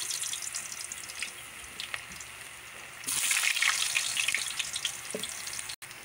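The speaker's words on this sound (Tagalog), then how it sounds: "unahin natin iprito yung patatas natin tsaka carrots" Potatoes and carrots frying in hot oil for chicken afritada give a steady, close crackling sizzle that grows louder and denser about halfway through, with no talking.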